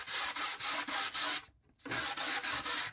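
Light hand sanding of a thin wood veneer shelf over inner boards: steady, close rasping back-and-forth strokes in a quick regular rhythm, broken by one short pause before the strokes resume, with no talking.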